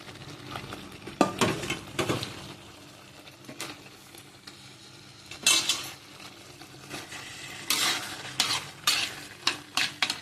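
Ridge gourd gravy cooking in a pan, with repeated scraping stirs of a spoon against the metal over a soft bubbling sizzle, the strokes coming in irregular bursts.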